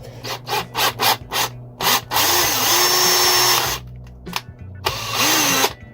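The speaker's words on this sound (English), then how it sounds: "So on this one, I'm going to drill this hole out here for the heat sensor to go in." A drill bores a 4.8 mm hole for a heat sensor, starting with several short stuttering bursts, then a sustained whining run, a pause, and another brief burst, all close and loud.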